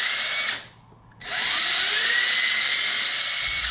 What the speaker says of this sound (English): Measuring down, I mark, then drill a hole, and then mount the lower spacer